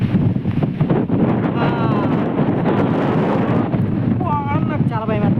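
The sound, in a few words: strong wind before rain blowing dust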